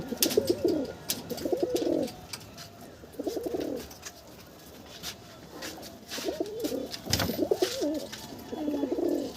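Pigeons in a loft give repeated throaty cooing phrases in bursts, close and clear, with wing flutters and small knocks between calls.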